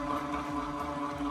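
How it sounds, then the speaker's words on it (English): An immersion blender mixing soap whirs continuously, a close, even electric-motor drone with a slightly churning texture and no pauses. "Maybe I could use my immersion blender."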